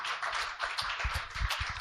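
An audience at a logistics forum applauds to welcome a speaker onto the stage, with brisk, continuous clapping that stays moderately loud and fills the short stretch.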